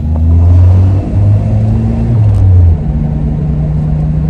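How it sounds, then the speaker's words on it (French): A Renault Twingo driving on the road, heard from inside as a loud low engine drone that shifts pitch with speed, steady and without talk. "Elle roule nickel cette voiture."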